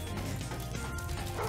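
Dog enemies in the Spyro Reignited Trilogy video game bark with sharp yips among crashing hits and busy game sounds, steady and loud throughout.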